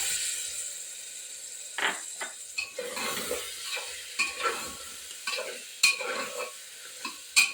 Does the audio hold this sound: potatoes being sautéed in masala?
yes